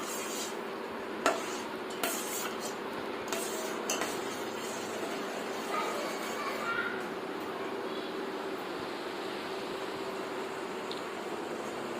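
A spoon scrapes and stirs through balushahi mixture with cardamom powder in a bowl, a few sharp clinks early on, then soft continuous scraping over steady background hiss.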